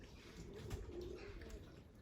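A roller pigeon coos softly in a coop, low repeated murmuring calls over a steady background hum, fairly close and quiet.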